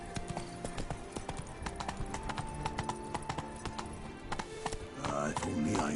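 Horse hooves clip-clopping in The Witcher 3 video game, a brisk, steady run of hoof strikes at close range, with a louder rustle near the end.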